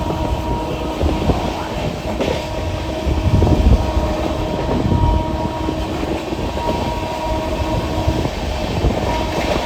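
The Gour Express with LHB coaches running on rails at night, a loud continuous rumble with rhythmic wheel clatter and rattling carriages, steady from start to finish.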